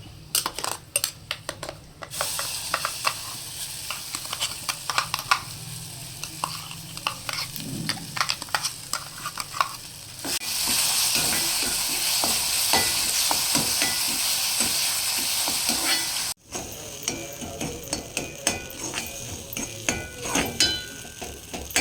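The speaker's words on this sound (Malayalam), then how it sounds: "ചക്ക ഇതിലേക്ക് ഒഴിച്ച് വറുക്കാം." Jackfruit fries in a pan with spice powders and curry leaves for a sour pulissery curry. A spatula scrapes and clinks repeatedly against the pan over continuous sizzling, which swells into a sustained hiss midway through, with no speech.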